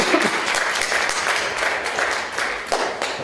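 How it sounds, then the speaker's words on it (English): Audience applause follows a sign-language-interpreted performance talk, a steady wash of many hands clapping at moderate distance with no speech over it. "your audience feedback is to clap"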